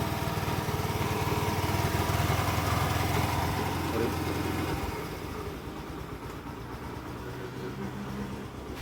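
A Hero motorcycle engine idles close by with a steady, even putter that drops to a softer, lower-level running sound partway through.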